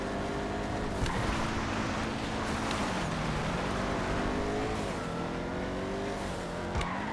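Vigero ZX HSW car engine in a video game, a sustained loud roar with rising and falling revs and shifting pitch throughout, with occasional tire scrub while driving over dirt.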